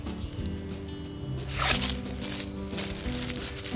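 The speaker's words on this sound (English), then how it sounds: "using the scissors, I'm just going to go ahead to curl my ribbon." Scissors curl a ribbon for an Easter balloon weight, giving a quick scraping swish that rises in the middle, faint and close over a soft steady musical backing.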